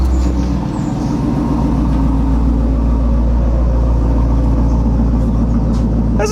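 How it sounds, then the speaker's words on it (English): A Chevrolet Camaro with a mild exhaust idles steadily after starting, a low, continuous engine rumble with faint pulsing, close and fairly loud throughout with no talking. "my absolute favorite part about this car is it does have a mild exhaust. So let me open the door and start it."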